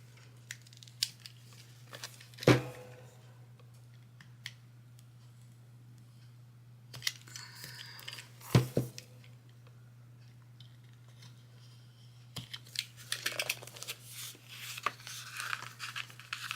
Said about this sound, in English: let me get my little cutter here.